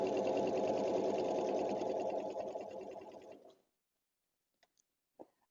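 Regular domestic sewing machine stitching zigzag quilting rows, a steady close rapid needle rattle lasting over three seconds before stopping, then a few faint clicks and a small knock.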